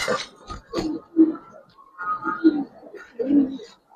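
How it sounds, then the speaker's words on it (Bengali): A Hemar pigeon calls close by in a short series of low, throaty coos, about four rounded bursts with brief pauses between them. "এটাও প্রচুর ডাকে ভাই, অনেক ভালো ডাকাডাকি করে"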